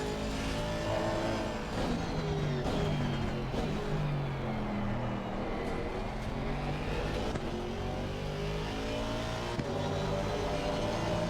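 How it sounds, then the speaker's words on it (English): An Aston Martin race car in a racing game accelerates hard out of a corner at Misano, its engine droning loudly and steadily with rising revs and gear changes throughout, alone without talk. "You can really accelerate out of corner."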